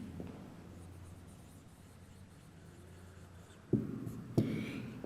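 A teacher writes a decimal number on a board during a math lesson, a soft continuous scratching stroke followed by two sharper taps of chalk or marker, close and faint with no talking.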